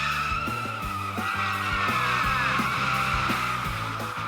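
A car on a final lap before being dropped for a duct tape strength test, its engine revving up and down close by in repeated cycles as the tires squeal and skid without stopping.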